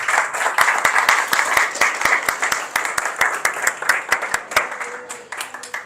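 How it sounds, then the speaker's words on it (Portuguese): A church congregation claps together in steady, dense applause, with sharp individual claps standing out in a quick rhythm; it stays loud throughout and thins slightly toward the end. "Aplauda ao Senhor por esta palavra"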